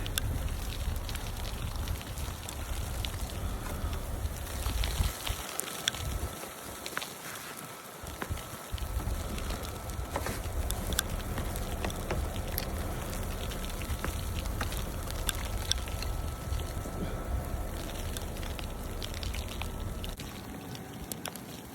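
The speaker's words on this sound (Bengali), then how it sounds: "আজকে শিলাবৃষ্টির মতন স্নো পড়তেছে" Heavy, hail-like snow falls outdoors in winter, making a continuous dense patter of small ticks and hits on surfaces, steady and fairly close for the whole stretch.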